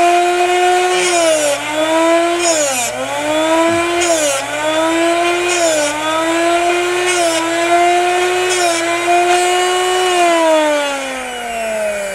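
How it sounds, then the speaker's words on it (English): A Darex Drill Doctor 750SP sharpener hums loudly as its motor grinds a drill bit, the whine dipping in pitch each time the bit is pressed in and easing back between passes before it winds down near the end. "And you hear that grinding sound, and I do it so that each side is ground the same."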